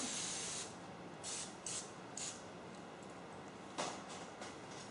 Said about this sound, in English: make sure that all of these are sprayed really good so that the buns come out